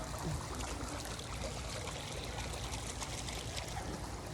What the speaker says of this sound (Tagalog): paminawon ang tubig